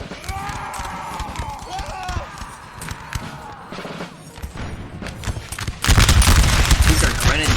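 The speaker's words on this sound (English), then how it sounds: "they're shooting constantly. Constant fire on these guys" Continuous musket fire from massed line infantry in a Napoleonic Total War 3 multiplayer battle at Aspern, with grenadiers of the line, a dense steady crackle of volleys that swells louder near the end.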